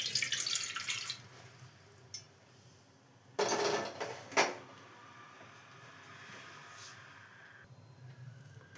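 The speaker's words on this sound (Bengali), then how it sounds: "এর মধ্যে প্রথমে জল দিয়ে দেবো। এতটা মতো জল দিয়ে দিলাম।" Water pours into a large bowl for dhokla batter in a couple of short splashing bursts, with quiet kitchen clatter and pauses between.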